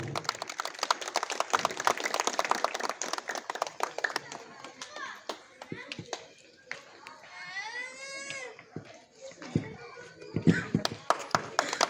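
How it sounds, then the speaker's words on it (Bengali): Audience at a winter clothing distribution event in a local colony clapping for a guest lawyer, a dense burst of applause in the first seconds, then scattered claps under children's voices and chatter. "একটু হাততালি দেবেন ওনার জন্য"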